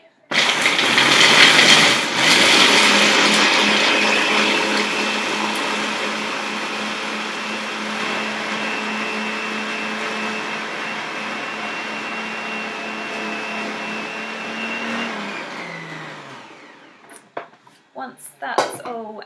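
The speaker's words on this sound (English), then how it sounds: "I'm going to just blend up all the dry ingredients." A kitchen blender whirs steadily through dry raw ANZAC truffle ingredients, loud and close, starting with a harsh burst that settles into an even drone before winding down, followed by a few clatters as it stops.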